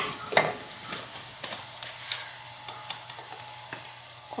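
Asafoetida and spices fry in a pan, a soft steady sizzle broken by a series of sharp scraping taps as a spoon stirs them, close and without talk.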